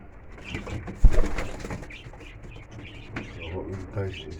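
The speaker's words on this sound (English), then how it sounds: "The younger birds are above there having a bath." Racing pigeons coo softly while bathing, with nearby fluttering and splashing bursts and a low, continuous murmur of birds.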